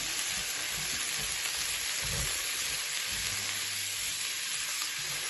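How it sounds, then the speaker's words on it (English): Vegetables sizzle and crackle in hot oil in a pan for a chicken noodle stir-fry, a steady bright frying hiss with a few low knocks of stirring, close and continuous without any talk. "So we're gonna put all this wonderful veg in the stir fry."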